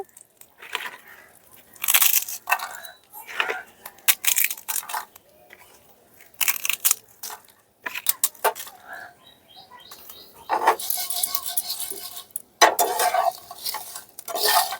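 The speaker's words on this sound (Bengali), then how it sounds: "এখন হাতের সাহায্যে পাঁপড়গুলো ক্রাশ করে দিয়ে দেবো" Papads crushed by hand over a pan for a vegetarian papaya and potato curry, giving repeated dry crackling and crunching bursts with pauses between, close and fairly loud, no talk.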